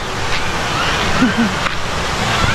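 Nangoloan Falls in San Felipe, Zambales, gives off a steady broadband rush of falling water, heard from nearby, with a brief voice over the roar.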